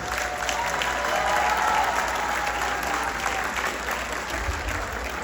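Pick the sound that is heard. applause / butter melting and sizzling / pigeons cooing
applause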